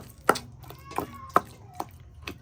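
Vegetables being chopped on a board in a home kitchen while a Thai fish dip is prepared: several sharp, separate knife strikes land at an uneven pace, close and moderately loud against quiet room tone.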